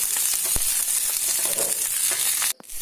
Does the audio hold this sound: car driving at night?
no